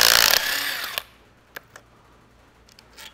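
A small Makita power gun rattles loudly in a short burst while undoing cylinder head nuts on a Massey Ferguson 65 tractor, then stops, followed by a few faint metallic clicks.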